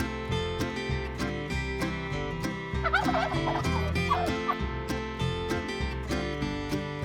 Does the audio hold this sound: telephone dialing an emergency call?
no